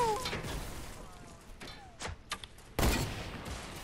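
Enemy gunfire crackles in a video game, scattered shots and short bursts at moderate distance, with one heavier blast near the end and quiet stretches between.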